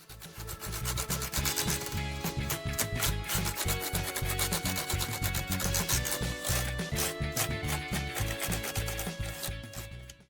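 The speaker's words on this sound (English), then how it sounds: "Take the fourth toothbrush and begin brushing across the surface." An old toothbrush scrubbing across a keyboard surface to clear dust from narrow gaps, giving a close, steady bristly rubbing with quick rhythmic strokes and no voices.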